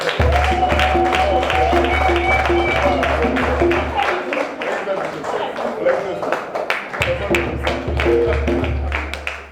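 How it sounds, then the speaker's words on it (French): An audience at a 40th birthday celebration claps steadily and densely, with sharp individual hand claps over a low rhythmic music bed that briefly drops out midway, loud and close throughout. "Acclamez."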